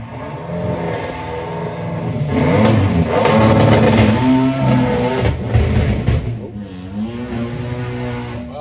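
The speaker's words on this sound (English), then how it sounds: "He's revving it." A front-wheel-drive four-cylinder drag race car at a European doorslammer eliminations event revs hard, its engine rising to a loud sustained roar, then dropping as a passing whine fades; exhaust pops are mentioned.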